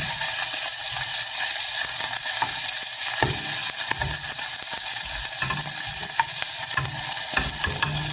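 Kuchia fish sizzles in a dry pan with no oil, a steady loud crackle and hiss under occasional stirring scrapes, continuous for about eight seconds with no talking.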